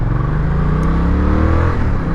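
A 2020 Yamaha Tracer 700 motorcycle accelerating hard, its engine note loud and close, rising steadily in pitch as it pulls away, with no talk over it.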